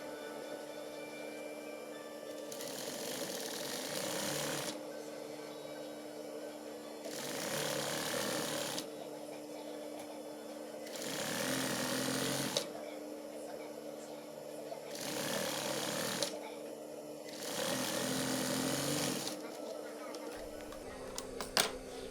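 A sewing machine stitches the hem of a lined batik shirt in repeated bursts of a few seconds each, a fast mechanical rattle alternating with quiet pauses, fairly faint and close.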